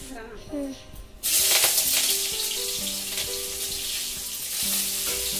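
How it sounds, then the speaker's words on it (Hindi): Vegetable curry frying in a pan on a gas stove as onion tempering goes in, a loud steady sizzle bursting on after a quieter moment and continuing with stirring noises underneath. "यहाँ गैस पर मैं सब्ज़ी बना रही हूँ प्याज का फ़ौरन डाल दिया है"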